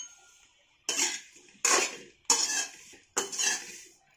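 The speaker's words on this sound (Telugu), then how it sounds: "ఇలా కలుపుకుంటూ ఈ బ్రెడ్ పీసెస్ అన్ని క్రిస్పీగా అయ్యే వరకు ఫ్రై చేసుకోవాలి" Bread pieces tossed and stirred in a hot kalai until crisp, four distinct bursts of rattling scraping against the metal pan about every three-quarters of a second, with quiet gaps between.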